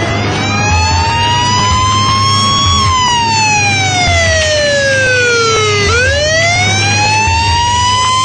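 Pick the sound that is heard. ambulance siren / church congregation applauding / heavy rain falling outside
ambulance siren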